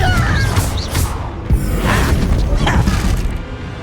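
Confringo blasting spell exploding in Hogwarts Legacy, a heavy booming crash with deep thuds and a rumbling tail, loud and close, with spoken voices mixed into the fight noise.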